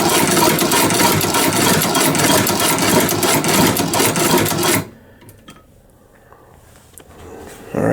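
A low-cost leather sewing machine stitching, a loud, rapid, continuous mechanical chatter for about five seconds that then stops abruptly, leaving a quiet pause before faint handling noise returns.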